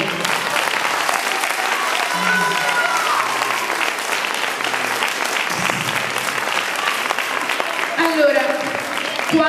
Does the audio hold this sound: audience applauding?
yes